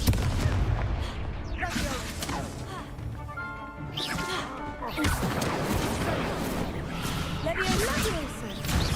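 Spell blasts from the Hogwarts Legacy video game, including the Confringo fire spell, burst and crash repeatedly over a busy combat soundscape with whooshes and impacts.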